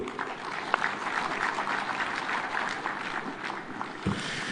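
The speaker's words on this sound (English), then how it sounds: "Another round of applause for Waziri." An audience at a devolution conference in Kenya applauds after a speech, a dense, steady wash of clapping that stays moderately loud throughout, with no clear voices above it.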